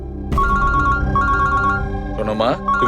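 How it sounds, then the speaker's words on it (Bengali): A phone's melodic ringtone plays loud and close, a repeating electronic tune that starts abruptly and repeats in phrases, with a brief warbling flourish near the end. "আমি একটু ফোনটা ধরি"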